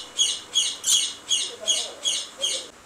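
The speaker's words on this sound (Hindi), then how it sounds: "रेड कॉलर लोरी का मेल" A male red-collared lorikeet at a Sunday bird market in Multan gives seven loud, harsh squawks in a steady rhythm, close by, with faint background murmur underneath.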